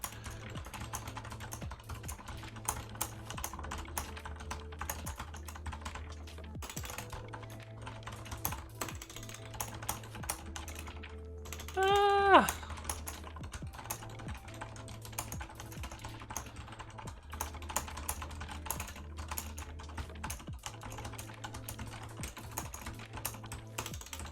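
Fast, continuous typing on a computer keyboard, close and fairly quiet, clattering steadily for over twenty seconds with a brief pause midway and a short tonal blip, no talking.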